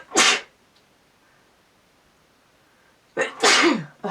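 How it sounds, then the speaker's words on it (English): Two sharp, close human sneezes, one at the start and one near the end, with near silence between them. "I'm going to sneeze."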